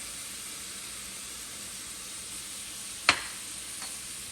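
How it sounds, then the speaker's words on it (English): Onions for a seafood bisque stirred in a hot pot, a steady soft sizzle throughout with one sharp scrape of the utensil against the pot and a fainter one after. "Stir it up."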